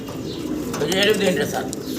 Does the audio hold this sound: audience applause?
no